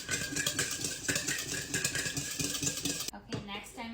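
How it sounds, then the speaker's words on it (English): Sugar, vanilla and a little salt being whisked in a bowl, a steady quick clinking and scraping of the whisk against the bowl, fairly close, stopping abruptly near the end, with a voice talking over it. "1/3 cup of sugar, some vanilla, salt, just a little, and then we whisk this up"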